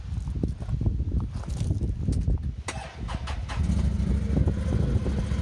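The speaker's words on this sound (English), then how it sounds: "Got a nice V-twin. Got the little growl, sounds good stock already." A Can-Am Maverick Sport 1000R UTV's stock V-twin engine rumbles with a low, throaty exhaust growl, uneven pulses at first, then settling into a steadier idle nearby.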